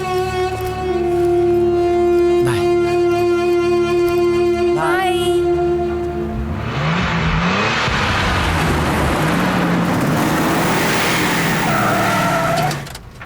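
A car engine struggling and failing to run, a harmonic whine and rough cranking giving way to a loud, noisy sputtering rush that cuts off abruptly, with little talk.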